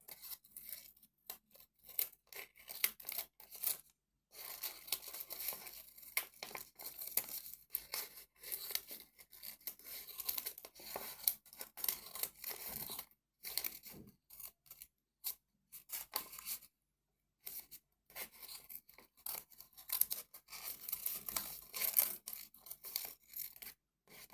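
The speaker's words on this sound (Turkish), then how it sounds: "Şu makasla bunun saçlarını keseceğim." Scissors cut through hair in quick snipping bursts with short pauses between them, close and fairly quiet, with no talking.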